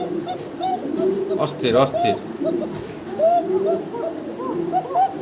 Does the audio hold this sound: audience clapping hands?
no